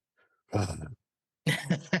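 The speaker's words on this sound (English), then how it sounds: "I am like coughing up a storm today." Two rough coughs close to the mic, one short burst and then a doubled cough after a pause.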